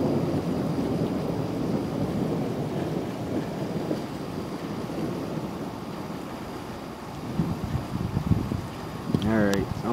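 An early-morning thunderstorm sends a long, deep rumble of thunder rolling steadily through the air, loud and close, with wind buffeting the microphone and a brief sharp sound near the end.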